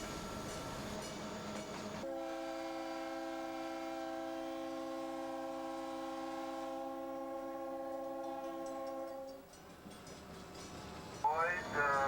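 A circus parade train in 1995 sounds its horn as it starts out: a loud, steady multi-tone chord holds for about seven seconds, then cuts off, with rail and engine noise before and after.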